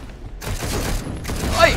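Gunfire from the hack-and-slash video game Darksiders Genesis comes in dense bursts of rapid shots and impacts, loud and busy, with a voice commentating underneath.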